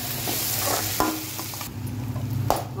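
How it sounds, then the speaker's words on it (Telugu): Onion and tomato fry in a pan for a vegetable kurma, a close, steady sizzle with scraping stirs and a few knocks of a spoon against the pan. "ఆనియన్ టమాటో ఫ్రై అయిపోయిందండి"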